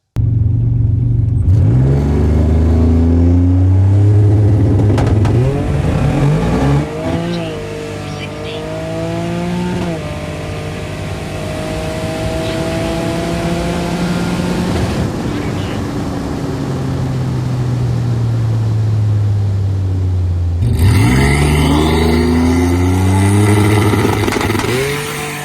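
Boosted Buick Grand National making a drag strip pass, its turbocharged engine revving up hard through several rising gear pulls, loud and close, with brief shifts between and a final surge of acceleration.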